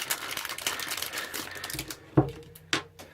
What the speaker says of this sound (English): Let's open this up and get rid of this noisy plastic.